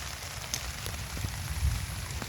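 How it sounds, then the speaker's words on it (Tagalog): Rain pours steadily in wet weather, a dense, even hiss of drops on surfaces that stays constant throughout, with a few slightly louder patters and no voices. "naulan na po"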